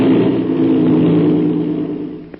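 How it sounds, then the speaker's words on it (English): An airplane engine catches after an inertia starter is wound and released, giving a loud, steady mechanical roar that holds and then eases off near the end, close and without talk. "That's the way an airplane motor starts, fast as a flash"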